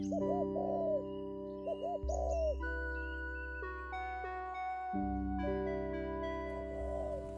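A spotted dove (tekukur) coos in soft, hollow, repeated phrases, set over a steady, sustained musical drone that shifts in pitch.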